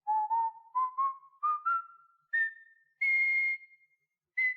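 A clear whistled melody of short rising notes from the Luigi's Mansion video game, ending in longer sustained tones with brief pauses, alone with no talking.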